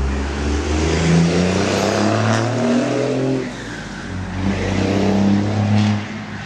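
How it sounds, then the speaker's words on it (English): A pickup truck with its muffler disabled or glass-packed revs loudly nearby, a deep throaty engine roar that swells and eases twice, fairly close and steady throughout. "Guy with a pickup truck who has his muffler disabled, or maybe glass packed."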